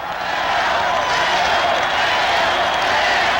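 Kansas City Royals fans roar and cheer at a 1980 World Series baseball game against the Philadelphia Phillies, a loud, steady crowd wash filling the stadium without pause.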